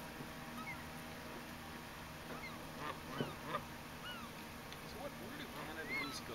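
Geese honk repeatedly at moderate distance outdoors, scattered calls overlapping in an irregular chorus over steady background noise.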